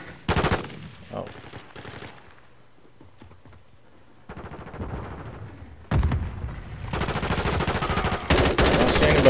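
Bursts of automatic gunfire in Modern Warfare 2 crack loudly at the start, then a lull with faint shots, before sustained heavy firing builds to the end.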